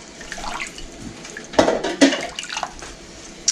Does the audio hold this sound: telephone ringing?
no